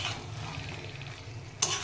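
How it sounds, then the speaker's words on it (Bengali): Chicken being stir-fried for a spicy Bengali chicken kosha, a constant soft sizzle with light stirring scrapes nearby, ending in a brief louder clatter. "চলো আমার চিকেনটা কষানো চলছে"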